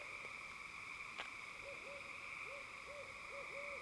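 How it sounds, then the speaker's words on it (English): Owls hooting in the woods at night: several soft, repeated low hoots, faint and distant, over a steady background hum of insects. "I love the owls in the woods"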